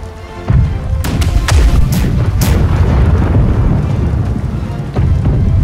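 Ship cannons fire broadsides in the naval combat game Black Wake, a continuous heavy rumble punctuated by several sharp booming shots in quick succession, loud and close.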